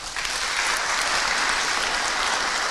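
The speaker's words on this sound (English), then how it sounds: "give applause please for Dr. Rumrawi." Steady applause from an audience, dense clapping that stays even and fairly loud throughout.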